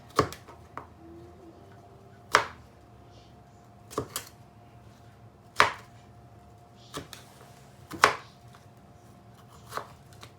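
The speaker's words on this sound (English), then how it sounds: "cutting it like that. I'm just making it into small chunks." A knife chops food into small chunks on a board, with sharp, irregular thuds spaced a second or two apart against a quiet background.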